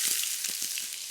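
Onions frying in hot coconut oil for squid masala give off a brief, steady sizzling hiss, close and moderately loud.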